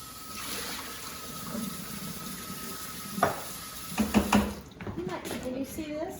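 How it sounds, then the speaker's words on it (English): Sauce with chicken and vegetables bubbles and thickens in a pan during a Chinese New Year cooking session. There is soft sizzling and stirring, with a few clinks, under a person talking. "Ooh, this is bubbling and getting thick over here."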